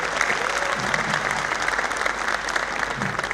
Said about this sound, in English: So just because of that, I want a round of applause.